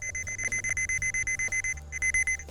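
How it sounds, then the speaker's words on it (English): A Pro900 digital cable and wire locator gives its low-frequency beeping signal, a rapid regular series of short electronic beeps, fairly close and alone. "you're going to hear that beeping signal"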